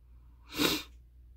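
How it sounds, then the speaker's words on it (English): A single stifled sneeze, short and muffled, rising and fading within about half a second against a quiet background. "I have to sneeze and I'm trying not to do it on camera"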